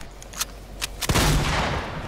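Video game gunfire: a few sharp single shots crack out, then a loud burst of rapid fire erupts and rolls on, close and dominant with no talk.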